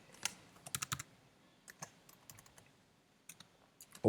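Code is typed on a computer keyboard in quick, scattered bursts of light key clicks with pauses between, close and fairly quiet, ending in a louder knock.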